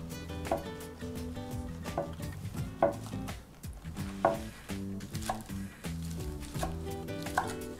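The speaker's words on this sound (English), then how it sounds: "I just kind of like chopping them to bite size." Knife strikes on a cutting board chopping vegetables in a loose, regular rhythm, fairly soft, with tonal music playing underneath.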